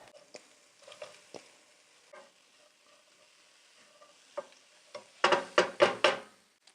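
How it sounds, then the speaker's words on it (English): Onions sizzle quietly in a pan with occasional stirring taps, then a cabbage mix goes in and the frying swells into several loud bursts of crackling sizzle near the end. "my onions are starting to talk to me a little bit. I'm going to add my cabbage mix"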